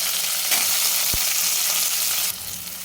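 Onions fry in hot oil with curry leaves, green chillies and dried red chillies for a fried jowar idli masala, giving a dense, continuous sizzle that drops slightly near the end.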